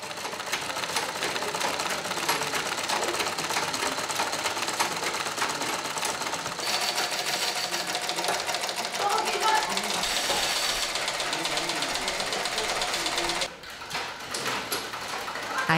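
Sewing machines run without pause in a busy sewing room at a village community centre in Africa, where school uniforms are being sewn, making a dense, continuous mechanical whir that dips briefly near the end.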